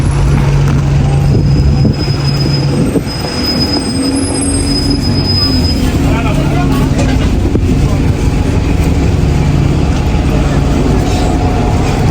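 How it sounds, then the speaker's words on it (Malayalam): A train runs at East Ham railway station in London, with a loud, continuous rumble of wheels on rails and high metallic squeals and tones riding above it. "നമ്മളിപ്പോൾ കാണുന്നതാണ് ഈസ്റ്റ് ഹാം റെയിൽവേ സ്റ്റേഷൻ."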